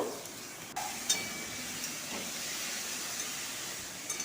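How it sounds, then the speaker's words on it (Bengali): Chopped bottle gourd fries in a pan with spices, making a continuous loud hiss, with a few faint knocks and scrapes as it is stirred. "কুচনো লাউগুলোকে দিয়ে দেব লাউগুলোকে দিয়ে ভালো করে নাড়াচাড়া করব"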